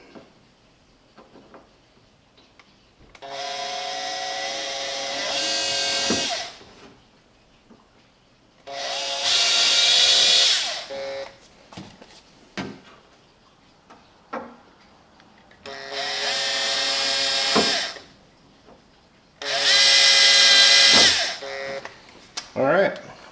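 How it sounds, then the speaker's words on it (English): A power drill with a number 50 bit enlarges holes on a model F-16 in four separate bursts of a few seconds each, with short quiet gaps between them, loud and close. "we're gonna go ahead and enlarge these holes just a bit"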